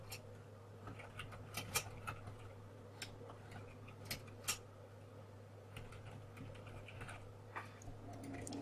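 Quiet typing on a computer keyboard while coding in the Eclipse editor, with irregular light key taps and a few sharper clicks spread across the stretch over a faint steady hum.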